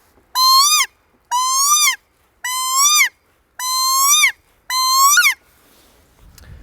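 Dan Thompson BD1 predator call sounding a high-pitched tone, five clear, loud, evenly spaced drawn-out blasts with a rising-then-falling whistle pitch, each lasting about half a second to a second, followed by quiet.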